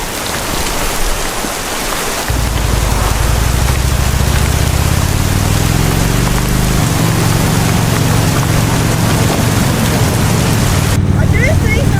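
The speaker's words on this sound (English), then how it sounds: "I can hear the thunder." Rain and a thunderstorm during a motorbike ride between Echuca and Bendigo, a steady loud wash of rain and wind over a low engine drone that steps up after a couple of seconds, with no clear separate thunderclap.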